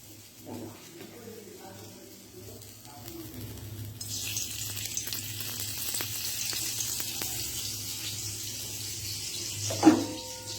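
Dry red chillies, bay leaves and five-spice (panch phoron) tempering hit hot oil partway through and break into a steady, bright sizzle that continues to the end, with a single sharp clink near the close.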